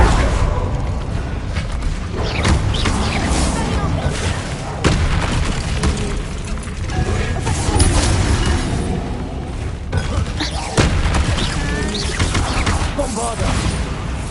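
Repeated Bombarda blasting-spell explosions in the Hogwarts Legacy video game, booming bursts layered over dense, continuous battle noise with a talking voice throughout.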